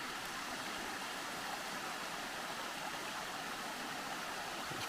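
A creek pours steadily over rocky shoals below a woodland trail near Nancy Town Falls in Mount Airy, Georgia, a soft, continuous hiss and babble of moving water with no voices.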